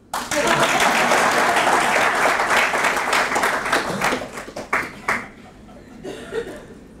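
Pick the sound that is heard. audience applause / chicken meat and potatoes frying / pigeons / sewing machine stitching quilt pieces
audience applause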